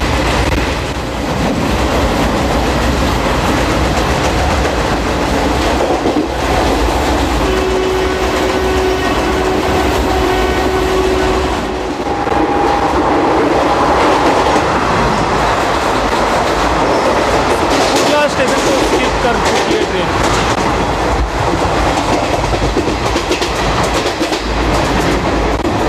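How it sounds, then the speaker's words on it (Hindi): Garib Rath Express running on parallel track beside the Kamayani Express, a steady loud rumble and rhythmic clatter of wheels on rails throughout, with brief tonal whines rising midway. "सामने कामायनी एक्सप्रेस है, उसके साथ अभी पैरेलल रन हो रहा है हमारी इस ट्रेन का"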